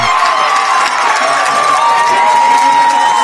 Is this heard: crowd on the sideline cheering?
yes